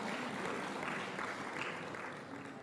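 An audience at an Indonesian education ministry briefing applauds, a short burst of dense, fairly faint clapping that tapers slightly toward the end.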